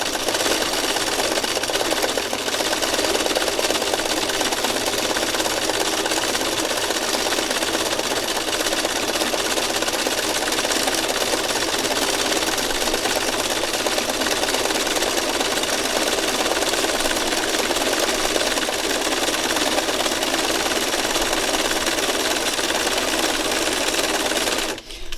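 A sewing machine runs nonstop while stitching circles, its fast, even needle clatter holding steady and loud from start to finish.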